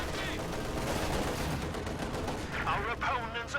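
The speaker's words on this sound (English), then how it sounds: "Heavy machine guns!" Heavy machine guns fire continuously in a real-time strategy video game, a dense, steady rattle of rapid shots with sharper bursts near the end.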